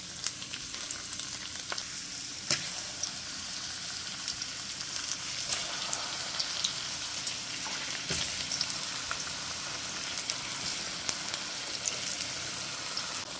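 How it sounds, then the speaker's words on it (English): Steady crackling sizzle of food frying in hot oil, continuous and close, with occasional sharper pops and no voices. "I'm going to add these to the oil and start frying"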